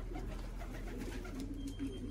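A racing pigeon returns to its home loft after a 290 km race from Morlincourt, France, and soft, low cooing is heard faintly under steady outdoor background noise.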